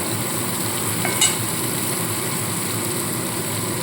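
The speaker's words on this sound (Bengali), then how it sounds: "এইবার পেঁয়াজ আদা রসুন আর কাঁচা লঙ্কা পেস্টটা একবারে দিয়ে দিলাম দিয়ে খুব ভালো করে এবার কষাতে থাকবো" Onion, ginger, garlic and green chilli paste frying in oil while being stirred for a cabbage dish: a steady, loud sizzle throughout with a brief scrape of the spoon near the middle.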